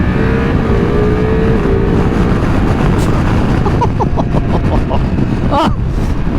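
Loud, steady engine roar from a 2024 Ducati Multistrada RS ridden on the road on cold tires, with wind rush throughout and a few quick revving rises toward the end.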